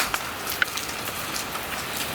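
Steady rain falls outdoors at a shooting range, near a parked truck, making an even, close hiss of drops with a few louder spatters and no talking.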